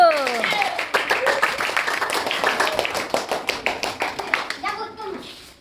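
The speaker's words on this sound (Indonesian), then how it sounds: "Tepuk tangan dulu" Sixth-grade schoolchildren clap their hands at a class drama performance, a quick, sharp, rhythmic run of near claps in unison, with children's voices talking over the start and end.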